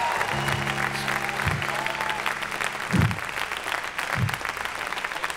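Church congregation clapping and applauding during a sermon, a continuous wash of applause with sustained musical tones and short voice bursts over it.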